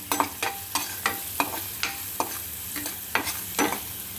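A spoon stirs cauliflower and potato curry in a sizzling pan, scraping in quick repeated strokes roughly every third of a second against a steady frying hiss.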